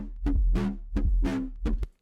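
Clean, unprocessed drum and bass mid bass from Ableton: three loud stabs over a deep sustained sub, each opening with a sharp attack into a bright, buzzing tail, heard alone.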